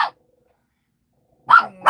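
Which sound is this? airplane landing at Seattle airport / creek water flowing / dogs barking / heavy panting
dogs barking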